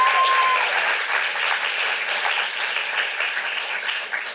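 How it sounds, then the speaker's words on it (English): A theatre audience at a young playwrights' festival cold reading applauds steadily for the whole stretch, a dense wash of clapping with no voices on top. "let's give Casey Clark a round of applause"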